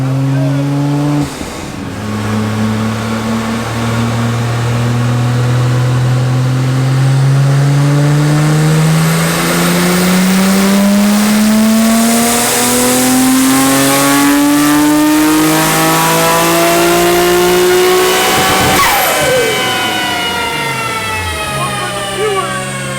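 A Nissan Skyline R34 GT-R engine revs hard on a dyno and climbs steadily in pitch, roaring loudly up through the range before dropping off, close and continuous.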